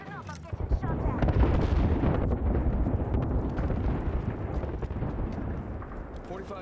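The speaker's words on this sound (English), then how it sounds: "Look out, grenade!" Grenade blast in a battle royale shooter, a heavy rumbling explosion that rolls on for several seconds with dense crackling debris, preceded by a short voice.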